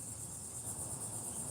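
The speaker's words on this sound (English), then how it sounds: "The sound of the bugs is a dead giveaway that I'm in the South." Bugs chirp in a continuous high, steady trill outdoors in the South, filling the background evenly and moderately loud with no pauses.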